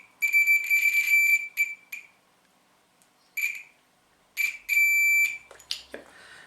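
A multimeter beeps a continuity tone in several bursts of high, steady pitch, some long and some short, while testing a radio antenna cable's connector points.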